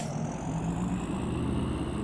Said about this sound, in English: That sounds like a truck.